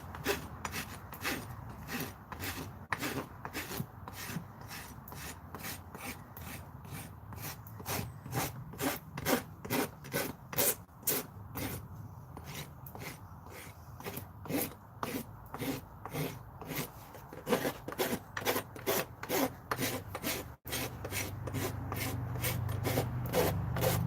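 A hoof is trimmed with repeated rhythmic rasping strokes, close and steady, for a long stretch with a few short pauses.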